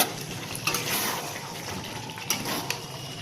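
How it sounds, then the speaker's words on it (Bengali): Soaked potatoes tumble into chicken biryani masala in a pan, a soft sizzle with a few light clinks and scrapes of a spoon, quiet and close. "এবার আলুটা দিয়ে দিচ্ছি"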